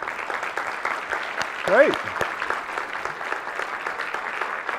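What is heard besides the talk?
audience clapping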